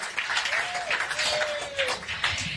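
A crowd claps in a Pennsylvania restaurant at a campaign stop with House Speaker Mike Johnson, with lively, uneven applause and a brief whistle rising above it.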